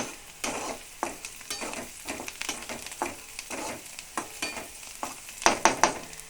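Crackling, popping sizzle of cumin and mustard seeds frying in hot oil, with repeated sharp bursts and stirring clatter, louder spatters near the end; no voices.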